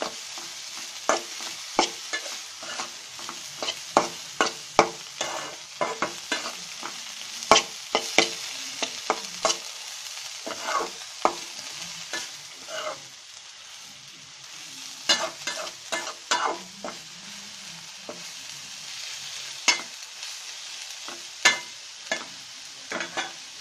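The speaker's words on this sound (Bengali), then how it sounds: "আমাদের ধনেপাতাটা এখন দিয়ে দিব" Coriander leaves cook slowly on low heat in a pan for a Bengali dhone pata vorta, with repeated sharp spatula scrapes and taps over a light, continuous sizzle, close and without speech.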